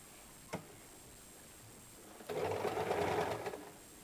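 A sewing machine stitches a blouse in a short burst of about a second, steady and moderately close, preceded by a single faint click.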